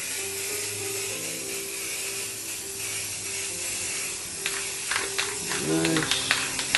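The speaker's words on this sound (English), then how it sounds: "So we're just going to spray it in right in there." A spray paint can hisses steadily in short bursts, with a few clicks and a voice faintly audible toward the end.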